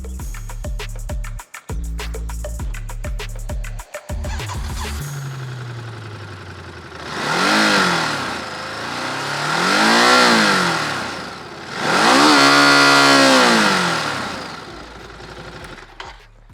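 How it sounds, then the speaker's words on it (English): Exhaust note of a 2024 Ducati Desert X motorcycle revving, with a rough idle leading into three long, loud throttle blips that rise and fall in pitch, heard alone. "I know a lot of you guys want to listen to the exhaust sound of the Ducati Desert X"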